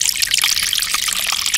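Water trickles and splashes steadily, a close, continuous bright wash of dribbling liquid with no voices.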